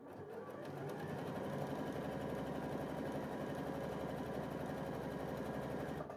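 A Burnet B37 sewing machine runs at full pedal speed, giving a steady, fast mechanical whir with rapid needle rhythm that holds evenly throughout, close and alone.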